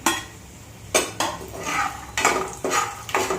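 Cashews roast in a pan for thick poha chivda, stirred with a utensil that scrapes and knocks against the metal in several sharp, close bursts over a faint frying hiss; no talking.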